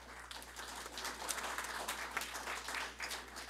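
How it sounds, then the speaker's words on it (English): An audience claps through a speech at an institute gathering, a fairly quiet but continuous patter of many hands with small swells, over a low steady hum. "You have done well, so give yourselves a round of applause."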